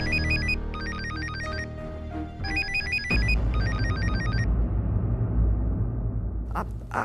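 A telephone rings in repeated electronic bursts, two pairs of trills, over a low rumbling background, followed by a brief clatter near the end.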